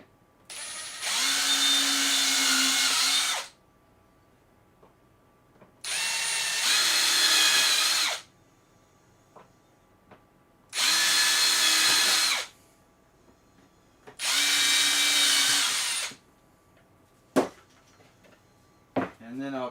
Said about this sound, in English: So I'm going to try to pre-drill as much as I can, because this wood tends to split real easy